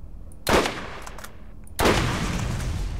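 Two loud gunshots ring out in the Borderlands video game, a sniper rifle being fired: one sharp crack around the half-second mark and a second blast later that rings into a sustained roar.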